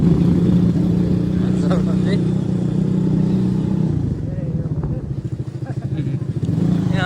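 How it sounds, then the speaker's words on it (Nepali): A motorcycle engine hums steadily nearby with a low, continuous drone, joined by faint rattling and clatter as it rides along. "बाइकको आवाज चाहिँ खतराका"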